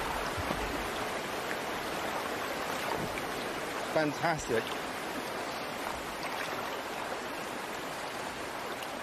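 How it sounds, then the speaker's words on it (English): A canoe is paddled through white water river rapids, with a constant broadband rush of churning water and a brief exclaimed word partway through. "White water's always exhilarating."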